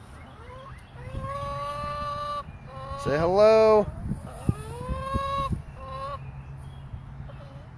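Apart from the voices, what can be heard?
chickens on a farm clucking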